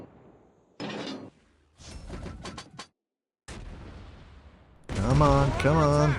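Naval guns boom in a warship video game, heavy firing bursts in separate clusters followed by a loud sustained salvo, with someone talking excitedly between shots.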